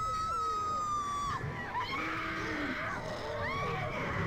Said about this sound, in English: I love that classic lady scream where it's just that like high-pitched creeps up, like a scratchiness creeps up, and then it just keeps going.